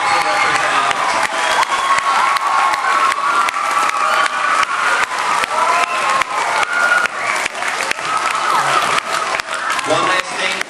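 Sustained applause and cheering from an audience at a school swearing-in ceremony for student council representatives, dense clapping with shouts mixed in, loud and continuous throughout.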